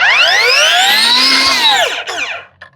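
Electric power cutter disc spinning down and stopping in about a second, a loud bright whine that rises slightly then sweeps downward and fades out, close and alone.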